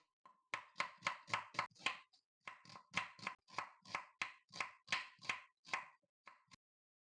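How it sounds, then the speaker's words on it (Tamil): A knife slices steadily through onion on a cutting board, cutting thin slices, with a regular series of crisp, close chopping strokes and a brief pause partway through. "வெங்காயத்தை ஸ்லைஸ் பண்ணுங்கள். நல்லா மெல்லிஸாக ஸ்லைஸ் பண்ணிக்கோங்க."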